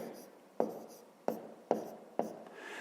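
A pen writes numbers by hand on paper during a fifth-grade math exercise, with four faint, close taps spaced at uneven intervals over a quiet scratchy background.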